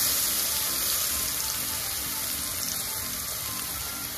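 Ginger, garlic, mustard, tomato and onion paste frying in hot oil, a steady close hiss and sizzle that runs evenly throughout with no talk.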